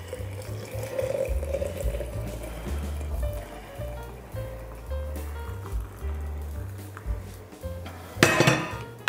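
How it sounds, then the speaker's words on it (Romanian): Hot water poured into a larger and a smaller bowl over frozen chicken-and-vegetable soup concentrate cubes, a steady liquid trickle with clinks of dishes and a sharp clatter near the end. "turnăm apă fierbinte"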